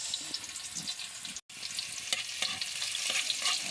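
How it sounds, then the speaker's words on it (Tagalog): Kangkong (water spinach) and onion sizzle and fry in a pan for adobo while being stirred. The sizzle is close and steady, broken by scraping stir strokes and one very brief dropout. "Ating igisa yung ating gulay na kangkong adobo."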